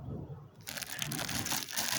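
A plastic bag crinkles and rustles loudly up close as it is pulled over a fresh sour cherry graft on a wild tree, a busy crackling that continues without pause.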